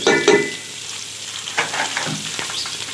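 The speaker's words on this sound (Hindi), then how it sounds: "और इसमें थोड़ा सा घी डाल के ना सारे सब्जियां इसमें फ्राई करेंगे।" Cabbage and bell pepper frying in ghee, a dense close sizzle with crackling bursts and occasional utensil stirring clicks, fairly loud and continuous throughout, no voices.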